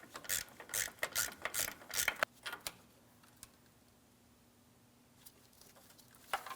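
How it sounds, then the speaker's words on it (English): A ratchet backs off a 13mm mounting nut from the starter stud on a 1997-2003 Ford F-150, clicking in quick loud bursts for about two seconds, then a few scattered clicks over a quiet background. "Now, we're removing a mounting nut from the stud."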